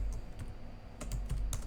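Keys on a computer keyboard tapped in short irregular bursts while working in a node-based game editor, several quick clicks clustered together, close and fairly quiet with no talking.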